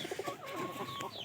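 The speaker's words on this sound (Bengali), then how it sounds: "আমরা এই যে কবুতরটা, এটা আমরা এই যে খড়ের খাঁচার এই পাশে রেখে দিলাম" A pigeon kept by a straw cage coos softly, with a few low, rounded calls close by over a steady hum of background noise.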